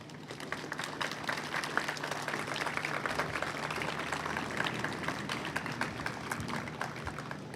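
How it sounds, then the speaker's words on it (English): Audience applause at a 2024 Veterans Day ceremony in Elmhurst, a steady, dense wash of many hands clapping that holds evenly throughout with no voices over it. "give them a loud round of applause"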